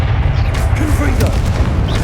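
A fiery Confringo spell explosion in Hogwarts Legacy lands as a loud, sustained low boom that rumbles steadily for about two seconds, with a voice heard over it.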